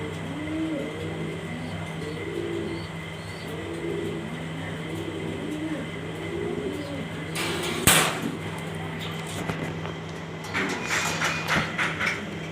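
Pigeons, including Andalusian and collared birds offered for sale, coo repeatedly in a soft rhythmic pattern nearby over a steady hum, with clattering knocks and handling noises toward the end.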